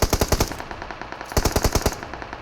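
Rapid automatic gunfire from a SCAR-L rifle in PUBG Mobile, two loud close bursts of evenly spaced shots separated by a short pause.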